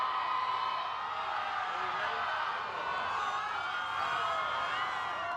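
A large street crowd at a presidential inauguration parade in Washington cheers and whoops continuously, a dense, distant roar of many voices.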